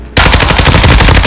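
A loud, close burst of rapid automatic gunfire in Call of Duty: Warzone kicks in abruptly after a brief quiet moment and continues as an even, fast stream of shots.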